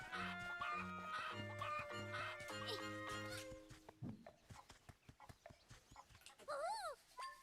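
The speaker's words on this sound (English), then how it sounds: "Look at all those chickens." Chickens cluck in the video game Zelda: Echoes of Wisdom, with repeated short clucks mixed into bright game music and other character sound effects.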